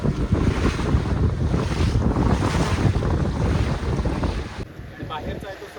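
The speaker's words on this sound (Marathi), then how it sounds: "ज्यावेळी खाडीचं पाणी आणि समुद्राचं पाणी एकत्र येतं ना, त्यावेळी या लाटा तयार होतात." Choppy sea waves where a creek meets the sea at the Devbag sangam, heard from a boat as a loud, steady rush of water and strong wind noise that eases slightly toward the end.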